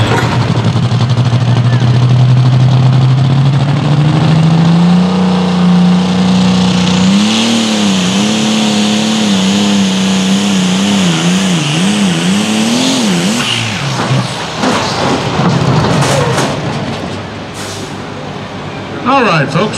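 A light limited super stock pulling tractor's engine roars loud and close, its pitch climbing and wavering as it revs hard, with a crowd and announcer faintly underneath at a tractor pull in Cloverdale, Alabama.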